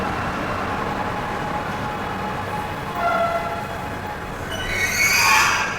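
A Mumbai local train pulls into a station platform with a loud, steady rumble of wheels and motor, then a rising metallic squeal of braking wheels near the end. No voices are heard over it.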